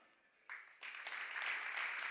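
Audience applause at the ETHNewYork 2019 hackathon opening ceremony, faint clapping that starts abruptly and quickly swells into steady, dense applause heard from a distance.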